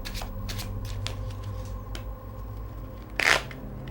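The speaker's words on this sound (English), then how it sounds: "give it a couple cuts and a couple shuffles" Playing cards shuffled briefly as a magician cuts and riffles a deck before a trick, a single short crisp flutter of cards near the end over quiet room tone.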